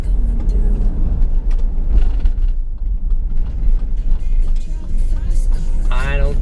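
A car engine runs steadily with a low, rumbling purr that stays loud throughout, with a faint mechanical clicking and voices in the background near the end.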